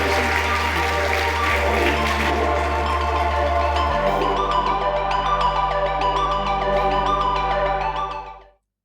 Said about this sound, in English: So everyone, please, a round of applause for Sid.